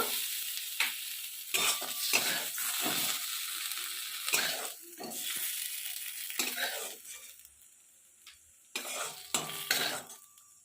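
Broad beans fry and get stirred in a pan, bursts of sizzling and metal spatula scrapes coming in irregular strokes, loud and close, with quieter pauses between.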